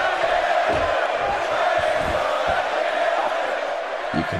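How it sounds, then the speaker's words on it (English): A wrestling crowd in the video game WWE 2K17 roars and cheers steadily in a big arena, a dense continuous wash of voices with occasional thuds beneath. "You can hear the crowd."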